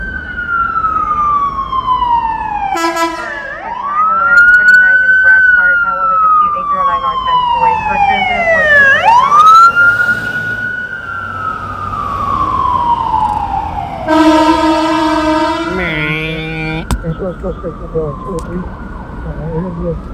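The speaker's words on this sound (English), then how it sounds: "Ambulance coming toward us right now." A wailing ambulance siren sweeps up and down close by on a rainy Los Angeles night, loud over traffic noise, then switches to a rapid yelping pattern near the end.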